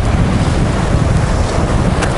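Storm wind roars over heavy surf on the Black Sea shore at Adler, Sochi, a loud, constant broadband rush with microphone buffeting and breaking waves, no voices.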